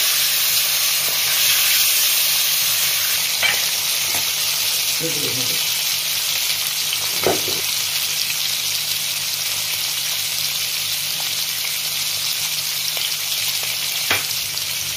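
Hilsa fish with a little turmeric frying in a pan and being turned over, a loud, steady close sizzle and hiss running throughout, with a few soft clinks and a brief faint voice.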